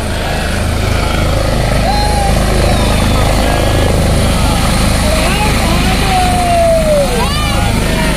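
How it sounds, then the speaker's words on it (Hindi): Steady, loud rotor and engine roar of a helicopter landing at a helipad near a temple in Virar, heard close and continuous throughout while a voice talks over it. "ये हेलीकॉप्टर लैंड कर रहा है विरारस्थित जुगानी मंदिर के पास हेलीपैड पर।"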